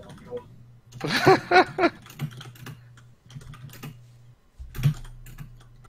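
Computer keyboard typing sounds in quick bursts of clicking keys, heard alongside people talking during an online tabletop game session.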